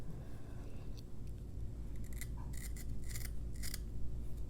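African violet stem being peeled and cleaned by hand, a handful of faint short scraping rasps in quick succession over a low steady background hum.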